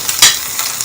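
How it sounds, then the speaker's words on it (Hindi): Green chilli, garlic and ginger paste hits a hot pan with a brief hissing sizzle and a stir scrape, loud and close, lasting under a second. "तो 2 मिनट फ्राई करेंगे।"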